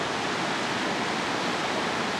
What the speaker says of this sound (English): The water coming over.